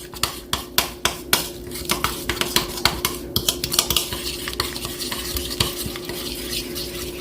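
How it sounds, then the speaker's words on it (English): A spoon repeatedly clinks and scrapes against a bowl as chicken marinade is mixed for grilling. The taps are close, sharp and rhythmic, over a faint sizzle in the background, and they slow and soften toward the end. "So we're gonna go ahead and mix our marinade up in there."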